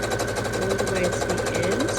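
A sewing machine runs steadily while stitching along the top edge of a fabric pocket on a drawstring bag, giving a close, fast, even mechanical whir with rapid needle clatter throughout.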